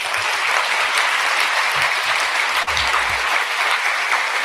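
A graduation awards audience applauds top ten scholars at Boise State, with loud, steady clapping from a crowd sustained throughout.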